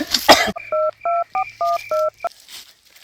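A telephone is dialed in a burst of five or six evenly spaced, close, clear keypad tones, preceded by a brief cough or throat-clearing.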